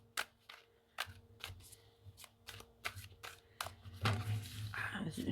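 Tarot cards shuffled by hand, a string of crisp riffling flicks and slaps close up, growing into a denser, continuous shuffle toward the end, with no talk.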